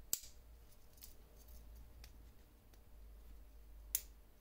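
A handmade Spydernox Kamakiri multi-tool knife gives a few sharp, quiet snaps spread over several seconds, the first and last loudest, in a quiet room.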